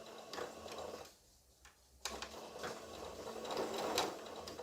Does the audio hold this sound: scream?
no